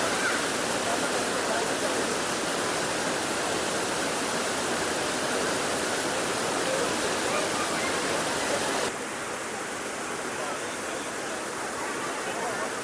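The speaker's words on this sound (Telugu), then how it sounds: "మనకి మారుడుమిల్లి వాటర్ ఫాల్స్ ఒక రేంజ్లో ఉన్నారు మరి" Jalatarangini waterfall near Maredumilli roars as a steady, loud, broadband rush of falling water that fills the whole clip, easing slightly in level toward the end.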